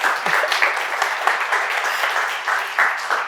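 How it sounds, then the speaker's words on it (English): An audience at a startup summit claps steadily and loudly after a speech, a dense wash of applause that holds at an even level throughout. "Thank you so much for that enthusiastic applause."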